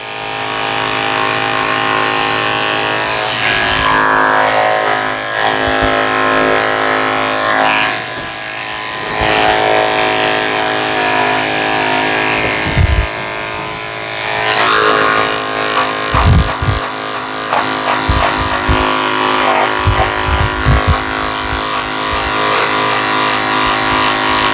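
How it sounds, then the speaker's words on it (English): Electric clippers fitted with a size 30 blade shave the hair inside a Lhasa Apso's ears during grooming, a close, steady buzzing hum that runs continuously, with brief bumps and changes in pitch as the blade moves over the fur. "Shaving the inside of her ears with a 30 blade so I can see what I'm doing"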